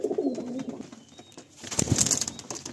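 Pigeons coo softly in a backyard loft, a low murmuring call followed by a brief flutter and rustle near the end, with no voices.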